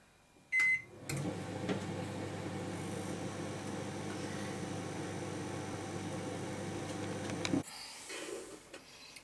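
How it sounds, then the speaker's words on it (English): A microwave oven heating a Rustlers cheeseburger hums steadily for several seconds after a click and beep, then stops abruptly with a clunk near the end. "I like to hit it back in the microwave again"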